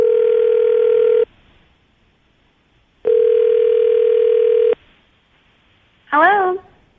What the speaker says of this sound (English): we're going to get her on the phone right now